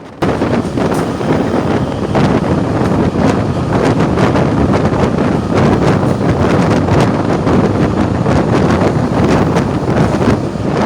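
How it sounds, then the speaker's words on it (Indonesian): Wind roars loudly and steadily through the windows of a moving passenger train in Indonesia, buffeting against the microphone with a constant rushing noise throughout. "Angin bertiup dari sela-sela jendela"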